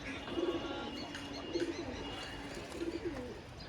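Pigeons kept for sale coo softly in three short bursts spaced about a second apart, fairly faint against a steady background hum.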